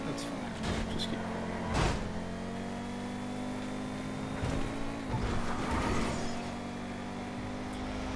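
The Osiris car in a video-game time trial drives with a steady engine hum, revving up in a few short bursts, with a faint voice talking briefly.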